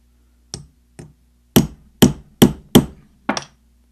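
Sharp metallic taps from a small hammer flattening an accordion reed on its reed plate: two lighter strikes, then a run of five firmer, evenly spaced blows, close and crisp against silence.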